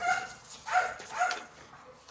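Dogs bark in a short burst of two or three yips and barks indoors, moderately near and fairly faint, with a quiet room tone and no talk.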